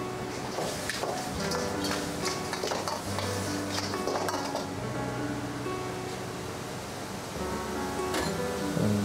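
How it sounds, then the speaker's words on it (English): Crab stir-fried in a wok over high heat for a Thai chilli black pepper crab: steady close clatter of utensil against pan with a low sizzle underneath, continuous throughout. "And really give this a good stir on a high heat."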